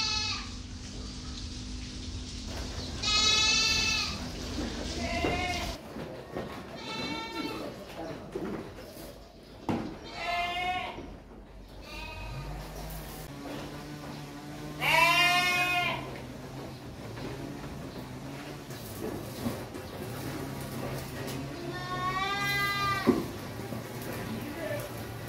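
Dorper sheep bleat loudly and nearby, with about four separate wavering cries spread out among quieter farm rustling and murmuring voices.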